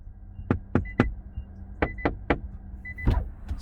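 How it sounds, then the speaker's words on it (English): Door of an Infiniti QX55 with active acoustic glass shutting: a few sharp solid thunks and knocks in close succession, nearby and fairly loud, with faint mechanical whirring between them. "you'll notice as I shut the door"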